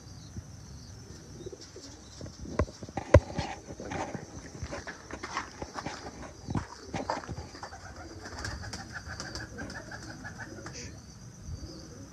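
Tame pigeons at a loft coo in low, repeated murmurs, mixed with scattered bird chirps, wing flutters and faint clatter nearby; no one speaks.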